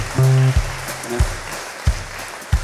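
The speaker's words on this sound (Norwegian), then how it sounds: "God applaus." Audience applause for a pianist at a live concert in Veavågen church, a steady wash of clapping with a low sustained tone at the start and several heavy thumps recurring through it.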